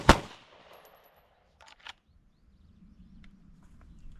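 Handgun fired during a draw from an appendix Kydex holster: one sharp, loud shot at the start, a quieter report about a second and a half later, then faint shuffling and handling noise.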